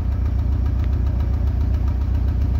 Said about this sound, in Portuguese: característico de carro falhando um cilindro